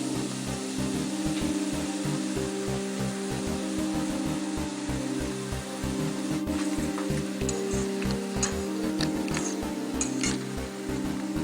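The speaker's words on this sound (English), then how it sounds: "Okay, that means sizzling." Ground turkey browns in a hot pan with a steady, dense sizzle under a low hum, and a few faint utensil clinks scrape against the pan toward the end.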